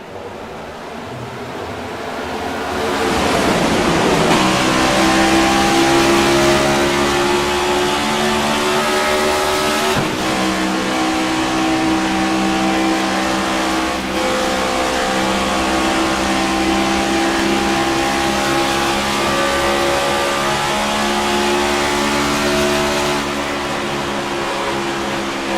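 Pack of NASCAR stock cars at full throttle on the Kansas Speedway oval in the iRacing simulator, a dense, loud engine roar swelling in after a quiet start and holding steady, with passing cars shifting in pitch.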